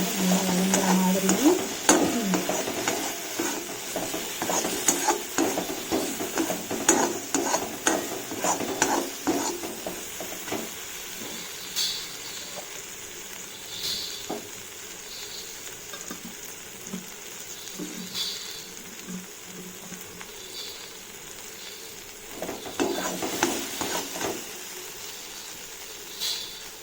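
Masala with chilli powder sautéing in a pan for a street-style pattani sundal, with steady frying sizzle and the scrape of stirring, busier at first and then quieter, with a little talk.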